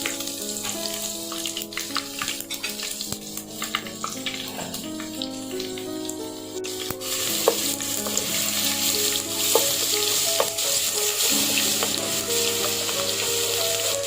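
Garlic and ginger paste sizzles and crackles steadily in hot oil while a spoon scrapes and stirs the pan, continuous and close.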